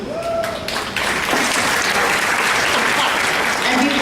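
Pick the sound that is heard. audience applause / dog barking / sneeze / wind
audience applause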